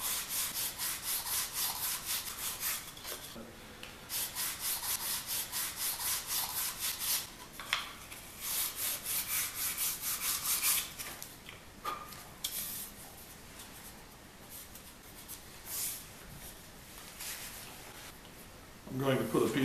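A flat sanding stick is dragged back and forth over the faces of a wooden organ pipe, making repeated dry rubbing strokes that stop and start, close and fairly quiet, with brief pauses between passes.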